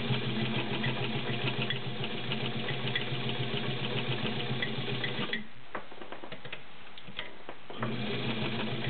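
A heavy-duty vintage White all-metal model 265 sewing machine with a 1.3 amp motor and walking foot stitches through six layers of denim, a loud steady rapid whirring clatter that pauses briefly near the end before resuming.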